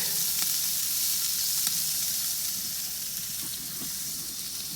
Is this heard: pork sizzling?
yes